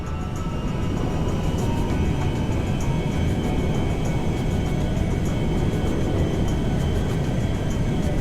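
Broadband jet roar of a Merryweather cargo jet coming in to land at an airfield in the video game GTA V, steady and loud throughout with no pauses.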